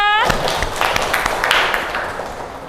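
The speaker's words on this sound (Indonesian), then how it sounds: "Tepuk tangan untuk Ica." A classroom of high school students applauds a classmate named Ica, a dense patter of claps filling the clip at close range before thinning slightly toward the end.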